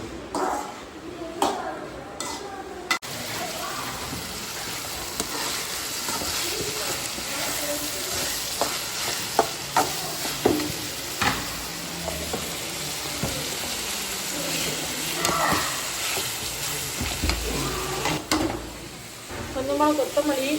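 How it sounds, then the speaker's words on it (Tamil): Onions and tomato sizzle and fry in a pan with a steady crackling hiss, stirring clatter now and then, while a person talks over the cooking. "வெங்காயம் கொஞ்சம் நல்லா வதங்கட்டும்"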